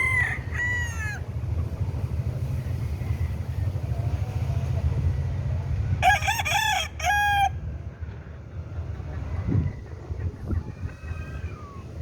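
Chickens cluck and a rooster crows in short bursts over a steady low engine rumble, with another brief crow toward the end.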